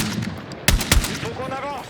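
Gunfire in the Battlefield 6 video game: two sharp, loud shots in quick succession, set against a busy battlefield din, with a brief voice-like tone afterward.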